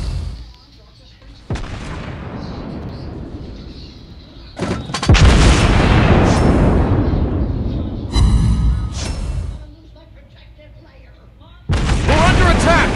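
Ship guns in a naval battle video game fire in several loud, booming bursts, with sharp blasts and rumbling stretches between quieter gaps.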